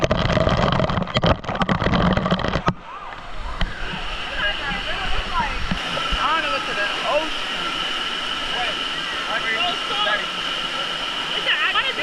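A St. Lucia waterfall pours in a steady, full rush, with people talking over it and a loud rumble at the start before the water noise settles.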